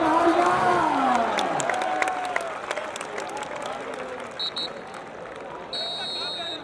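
A crowd at a kabaddi match claps in a dense burst of applause, loud at first and then thinning out, while voices shout and talk over it and a buzzer sounds briefly.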